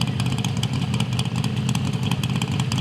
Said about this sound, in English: She has the fastest motorcycle in NHRA Pro Stock history, period.